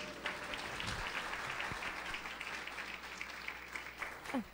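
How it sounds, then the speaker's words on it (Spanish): A church congregation claps to welcome someone speaker at a Sunday service, a fairly quiet, steady round of applause heard from a distance, with faint voices mixed in beneath it. "¿La podemos recibir con un fuerte aplauso?"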